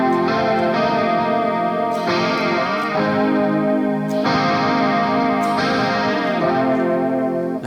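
Electric guitar chords ring out with a shimmering, wobbling chorus effect and some grit, changing every couple of seconds and played alone.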